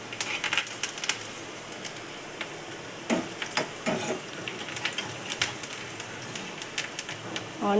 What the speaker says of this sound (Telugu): ఆనియన్స్ బాగా ఫ్రై అయ్యాయి.